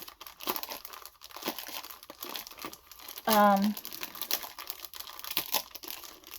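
A sheet inside crinkly plastic packaging is folded, giving soft rustling and crinkling throughout and one sharp, louder crinkle near the middle, while a person talks over the handling.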